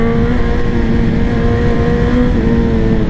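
A BMW M 1000 XR Competition motorcycle from 2024 runs with a loud, steady engine drone close to the microphone, holding a sustained high-revving tone without pause.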